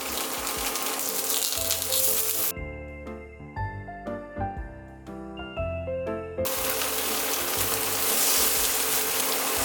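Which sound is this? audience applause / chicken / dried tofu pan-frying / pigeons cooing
dried tofu pan-frying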